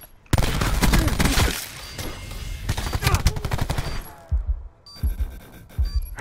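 Rapid video game gunfire crackles in dense bursts of shots, loud and close, with a sharp shattering burst and scattered single shots after a short pause, while players talk over it.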